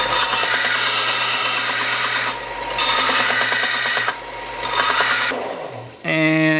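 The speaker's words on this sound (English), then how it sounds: "we've been taking stuff with the belt sander" Belt sander grinding a bevel onto the outside of a steel pipe for welding turbo V8 Mustang manifolds, a loud continuous rasping whine with brief dips as the tool lifts, ending with a harsh metallic shift.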